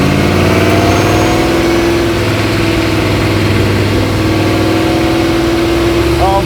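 The INDYCAR-powered Martini Mustang Fastback engine idles roughly at low RPM, a loud, steady, lumpy drone heard up close, with voices speaking over it.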